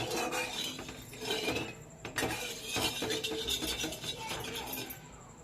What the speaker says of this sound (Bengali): জল আর চিনিটাকে খুব সুন্দর করে নেড়ে নিচ্ছি